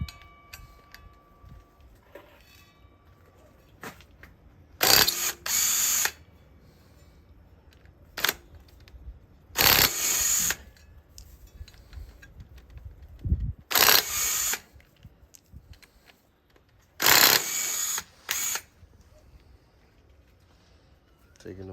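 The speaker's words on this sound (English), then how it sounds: "Taking them bolts off." A ratchet wrench removes bolts during an engine swap on a 2002 Honda Accord LX sedan with a 2.3L four-cylinder, giving four short bursts of rapid clicking spaced several seconds apart amid quieter handling sounds.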